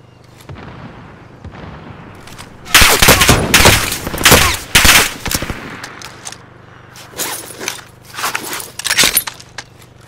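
Bursts of rapid automatic gunfire in Call of Duty: Modern Warfare, loud and close, firing in clustered volleys over several seconds with shorter trailing shots and a steady low hum beneath.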